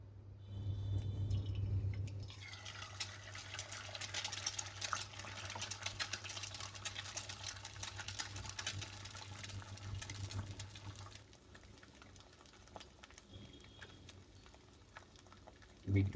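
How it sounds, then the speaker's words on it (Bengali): Flowers fry in a pan with a steady, soft sizzle and crackle while dal cooks nearby, a faint, continuous kitchen sound with a low hum under it and no talking. "মা আমার জন্য ফুল ফ্রাই করছে, ওদিকে ডাল হচ্ছে।"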